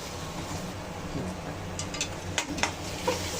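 Onion frying in a pan with onion-garlic masala while being stirred, a soft steady sizzle with a few light scraping clicks of the spoon toward the end, fairly quiet.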